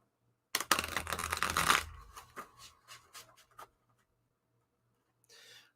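Cards being shuffled for a tarot-style reading, a dense burst of riffling flutters for about a second, then a string of softer separate card slaps and taps, close and alone with no talk.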